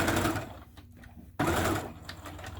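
A sewing machine stitches a fabric wristlet in quick mechanical bursts, close and clear, pausing briefly before running again with a steady rapid patter.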